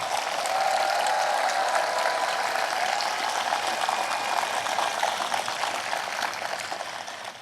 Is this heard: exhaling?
no